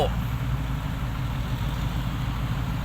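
A tractor engine at a muddy racing event gives a steady low drone that runs throughout, blended with a broad wash of outdoor crowd noise.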